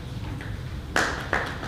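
Two sharp hand claps ring out close together in a quiet room at a city council meeting, following a brief low murmur.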